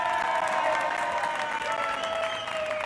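Crowd applause sound effect played from a soundboard, a dense continuous wash of clapping with some cheering, loud and close throughout the short burst.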